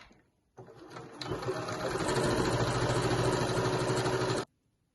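A sewing machine runs continuously for about four seconds, stitching around the top edge of a fabric drawstring bag, with a fast, even mechanical whir close by after a brief start-up.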